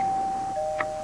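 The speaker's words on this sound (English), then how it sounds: "if you just let me ring the doorbell" A doorbell rings at a house: a steady electronic tone that holds and then shifts slightly in pitch, with a short bright chime near the end. It sounds close and clear, with no voices.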